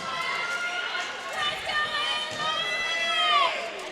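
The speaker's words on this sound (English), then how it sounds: "Hometown crowd really cheering for local Halen Sky" Hometown crowd at a women's bronze medal dodgeball match at the 2019 Canadian Nationals cheering and shouting steadily, loud and close, with bright voices rising near the end over ongoing commentary.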